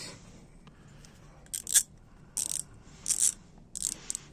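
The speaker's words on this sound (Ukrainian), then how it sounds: "Трещотку знайшов таку більш-менш фірма." A secondhand ratchet, a fairly decent branded tool, clicking in several short bursts of rapid ratcheting with brief pauses between them, crisp and close in a quiet room.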